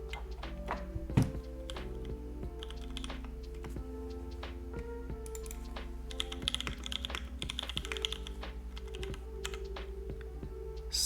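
Keystrokes on a computer keyboard tap out in scattered, uneven bursts, with occasional heavier thunks, layered over a steady tonal background hum.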